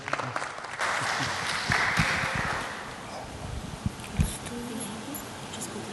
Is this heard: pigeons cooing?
no